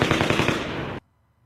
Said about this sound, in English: we're going to hear the raw footage of the gunfire up above